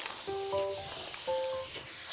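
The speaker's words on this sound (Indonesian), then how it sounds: "dia menyemprot habis kaleng pembasmi kecoa untuk membunuh satu kecoa" An aerosol can of cockroach insecticide is sprayed at a single cockroach in a Korean drama scene, giving a continuous close hiss with short pauses, while faint musical tones play underneath.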